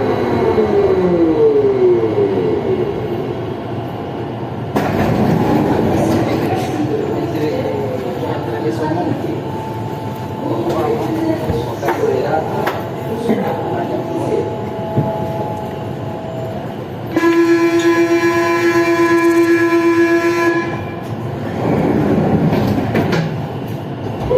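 Siemens VAL 208 NG automated metro train on a Toulouse line pulling away and running, with a rising motor whine, a sustained whistling tone and rail clatter, loud and close from inside the car, with people talking and station announcements over it.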